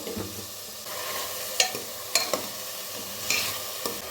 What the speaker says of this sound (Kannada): ಈಗ ಸ್ವಲ್ಪ ಉಪ್ಪು ಹಾಕೊಂಡು ಬಿಡ್ರಿ ಅದಕ್ಕೆ ಈರುಳ್ಳಿ ಎಲ್ಲ ಬೇಗ ಹುರಿದು ಬಿಡ್ತೈತಿ